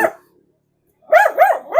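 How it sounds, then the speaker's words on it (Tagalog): A dog barks three times in quick succession, loud and close, after a short voice and a pause of silence. "Yun may aso."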